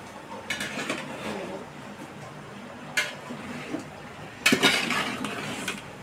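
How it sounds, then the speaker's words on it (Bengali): A metal lid clanks onto a pot of cooking Eid beef curry, two short sharp clatters standing out over the quiet bubbling of the stovetop, with no talking. "তো আমি ঢাকনা দিয়ে রেখে দিব, কিছুক্ষণ পরে আসবে।"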